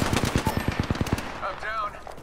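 Rapid machine-gun bursts in a shooter video game, a quick string of close, sharp shots for about a second, then fading into quieter game sounds.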